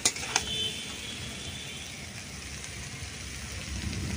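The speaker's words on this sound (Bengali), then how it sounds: "এবারে কিন্তু আমি এর মধ্যে দিয়ে দেব জল" Water poured into a pan of potatoes fried with spices for a tangra fish curry: a brief splash and clatter at the start, then a steady, soft sizzling hiss.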